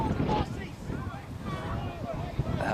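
Strong wind gusting across an exposed football pitch at a minor football final, buffeting the microphone with a steady roar under commentary.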